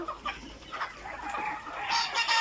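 Young Egyptian Fayoumi chickens raised as parent stock cluck and squawk, scattered calls at first and then a louder, busier burst of overlapping clucking toward the end.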